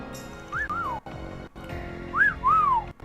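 Two short rising-and-falling whistles, like a wolf whistle, in the video game Trails Through Daybreak, sounding clearly over soft background music.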